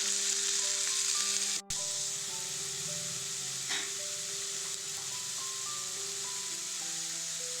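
Onion and tomato fry in a pan with a continuous, even sizzle heard close up, broken by a brief pause near the start and a faint stir partway through, for a tomato sattu paratha; no one speaks.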